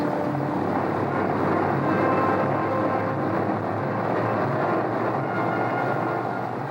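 Boeing 377 Stratocruiser propeller airliner building power for takeoff, a continuous dense roar of piston engines and propellers, loud and steady throughout.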